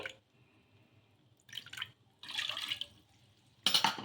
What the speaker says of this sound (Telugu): ఒక కడాయి అయితే పెట్టేసుకొని అందులోకి ఒకటిన్నర కప్పు నీళ్ళు అయితే వేసుకోవాలి